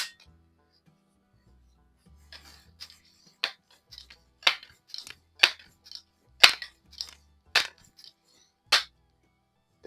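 Kessler multi-pump .22 airgun firing a series of sharp, close snapping shots at a Rojo steel target, about eight distinct cracks spaced unevenly over several seconds, with faint handling noises between.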